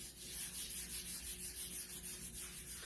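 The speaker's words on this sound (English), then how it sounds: "Let me grab a little bit more wax here. I'm just rubbing it in, and then I'm going to rub it off." Wax is rubbed by hand into a wooden holiday sign, giving a soft, steady, close-up scrubbing sound with a gentle back-and-forth rhythm, quiet and alone.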